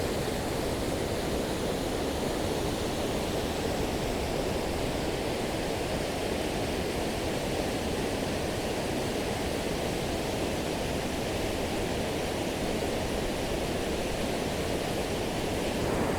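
A waterfall in North Cornwall during a gale roars as a steady, broad rush of falling water, continuous and fairly distant, with wind blending into the noise and no voices.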